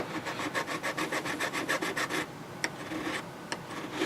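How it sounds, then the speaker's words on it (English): A metal file scrapes rhythmically across an old steel part, making about a dozen quick, close, rasping strokes followed by a pause and a couple of isolated scrapes, with no talk. "I'm going to get a little bit more aggressive file"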